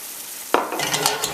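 Jerk shrimp with pineapple and scallions gets a single quick stir in a hot pan, a sudden scrape then a steady close sizzle with a few clinks of the utensil, with no voices over it.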